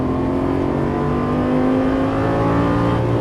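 Lamborghini Gallardo accelerating hard out of a corner on a race track, a loud continuous engine roar with rising pitch as revs climb, heard from inside the car with no talk.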